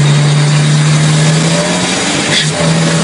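A Chevette car engine revs loudly after a missed gear shift, a steady droning note holding close and strong, dipping briefly near the end, with road and tire noise underneath.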